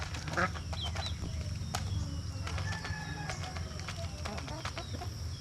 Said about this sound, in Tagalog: Takot ang mga manok.